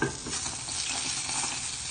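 Eggs fry in plenty of oil in a pan, giving a dense, continuous close sizzle with no voices over it.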